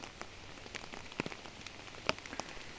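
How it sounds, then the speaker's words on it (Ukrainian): Rain falls steadily as a soft, even hiss, with scattered individual drops ticking nearby on a surface; faint and calm, with no voices. "У нас сьогодні дощ."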